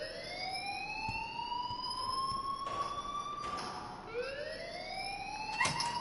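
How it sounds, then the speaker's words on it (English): An alarm wails inside the game Life Is Strange, a steady rising electronic siren tone that repeats in long sweeps, fairly faint under a hissy background with no talk. "please turn off that alarm"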